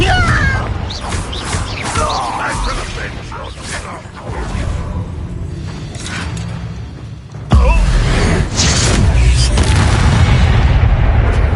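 Confringo spell explosions boom in a Harry Potter video game amid loud battle noise and voices, with a heavy blast hitting midway and dense rumbling continuing afterward.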